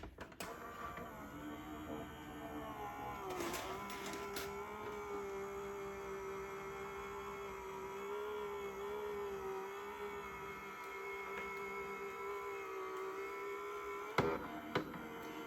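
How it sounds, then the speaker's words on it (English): Sizzix Big Shot Switch Plus die-cutting machine runs with a steady mechanical whir and hum for about fifteen seconds, joined by a few brief clicks and knocks near the start and end. "going to go ahead and use the Sizzix Big Shot Switch Plus that I reviewed a couple weeks ago."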